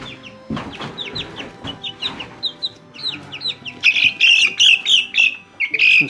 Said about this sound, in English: Then we got these little chicks.